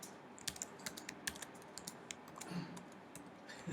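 Fast typing on an American-layout computer keyboard, close and fairly quiet: irregular bursts of sharp key clicks with brief pauses, no talking.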